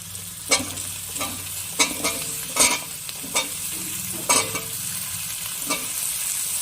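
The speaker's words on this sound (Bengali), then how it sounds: "আমার পেঁয়াজ আর লঙ্কাটা অল্প হালকা লাল করে ভাজা হয়ে গেছে। এখন এখানে আলুটা দিয়ে দিব।" Potatoes stir-fried in a pan with onion and chili that are already lightly browned, with a steady sizzle and a series of sharp spatula scrapes and clatters at an uneven pace, close and fairly loud.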